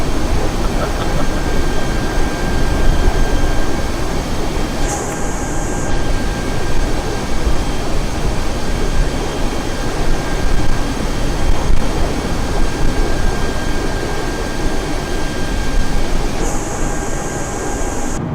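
An airliner cruising near 20,000 feet in Microsoft Flight Simulator gives a steady, loud, broad engine and wind roar throughout, with two brief high tones breaking through near the middle and the end.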